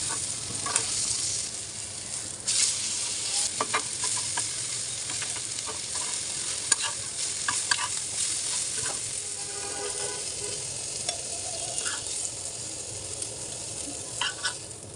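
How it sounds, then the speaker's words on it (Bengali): An egg with pumpkin flowers frying slowly in a pan gives a steady, close sizzle throughout, with occasional small crackles and stirring scrapes, no talking. "ডিমটাকে আমি ভেজে নেব একদম আস্তে আস্তে করে ভেজে নিব"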